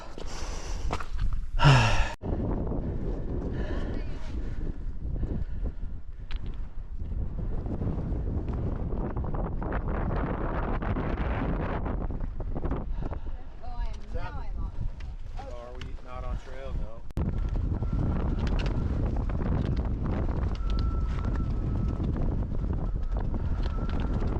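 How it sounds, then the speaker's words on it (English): Steady wind buffets the microphone with a low, continuous rumble on a mountain hike over the Bigelows on the Appalachian Trail, and people can be heard talking briefly near the start over the blustery noise. "It's a little windy today."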